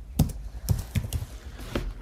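Quick typing on a computer keyboard: a handful of sharp, separate key clicks in an irregular rhythm over two seconds, close and clear with no talking.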